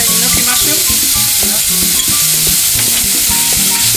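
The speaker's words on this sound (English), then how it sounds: "Most very important is to stir fry your vegetables" Mushrooms, enoki, bamboo shoots, carrots and black fungus stir-fry in a hot pan for hot and sour soup, a loud continuous sizzle broken by busy clattering and scraping of the utensil against the pan.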